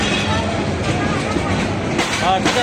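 A passenger train passes close by, a loud, continuous rumble with rattling clatter and no pause, while a voice sounds over it.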